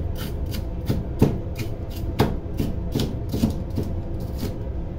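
A knife chops celery on a board in a steady series of crisp taps, roughly two per second, close and clear with no talking.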